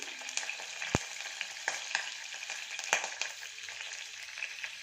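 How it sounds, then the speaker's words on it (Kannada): Cumin, fenugreek, curry leaves and a dried chilli fry in hot oil for a tempering, giving a steady bright sizzle with occasional sharp pops and crackles throughout. "ಜೀರಿಗೆ, ಮೆಂತ್ಯ, ಕರಿಬೇವು, 1 ಒಣಮೆಣಸಿನ್ಕಾಯಿ ಹಾಕ್ತಾಯಿದ್ದೀನಿ. ಇವಾಗ ಇದೆಲ್ಲ ಸ್ವಲ್ಪ ಫ್ರೈ ಆಗಲಿ."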